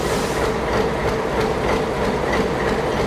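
Trains move through São Paulo's Luz Station, a red-brick rail station opened in 1901: a steady, continuous rumble of rail cars with faint clickety-clack from the wheels, held at an even level throughout.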